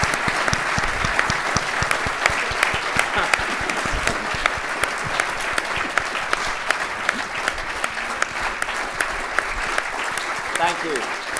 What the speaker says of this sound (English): I'd like to invite everybody to join me in applause.